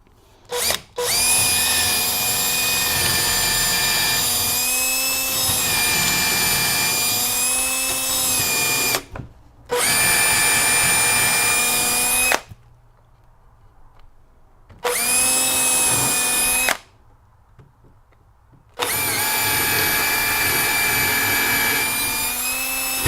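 A power drill whines loudly through wood in several long bursts separated by short pauses of near silence, with no talking, boring a through hole while fitting a staircase flight to a winder box.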